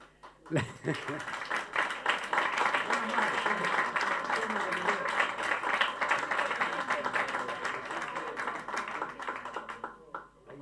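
An audience at a live talk breaks into sustained applause, a thick, steady wash of many hands clapping for about ten seconds before fading out, with some voices mixed into the crowd noise.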